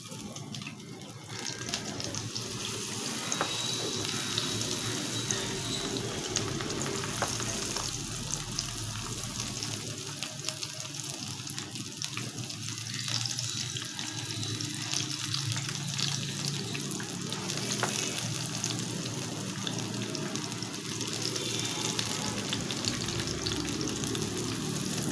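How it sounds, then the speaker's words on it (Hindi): Gram-flour-coated chickpeas frying in hot oil give a steady, dense sizzle, with a watery bubbling hiss running continuously and fairly loud throughout, no voices over it. "अब हम इसके अंदर चने डालेंगे, ये हम एक एक पीस उठा के डालते जाएंगे"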